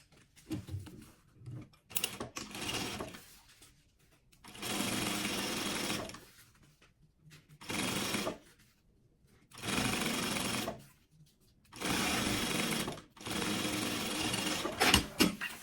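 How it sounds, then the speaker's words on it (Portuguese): A sewing machine stitches a lining to sublimated fabric in quick bursts, close and fairly loud, with short pauses between runs while the fabric is adjusted. "E vamos fazer a costurinha."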